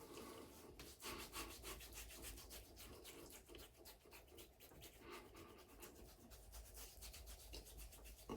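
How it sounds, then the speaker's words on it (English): Shaving lather being rubbed into the face against the grain, a continuous soft, rhythmic scrubbing and swishing, close to the microphone with no talking. "Try to make sure I rub it in against the grain."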